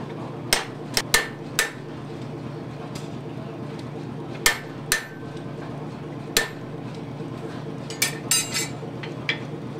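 A hot chisel is struck with a hammer in a forge, sharp metallic clinks and bangs at irregular intervals, some in quick clusters, over a steady background noise.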